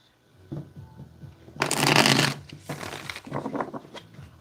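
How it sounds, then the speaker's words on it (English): Tarot cards shuffled close by: soft taps and slides lead into a loud, sustained riffle, followed by a second quieter riffle and shorter card rustles to finish. "I'm going to do 5 shuffles."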